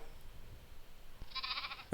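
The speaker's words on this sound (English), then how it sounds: "Oh, got the lamb." Brief recorded lamb bleat played as part of an animal sound guessing game, a short rising cry that arrives near the end after a quiet stretch of background noise.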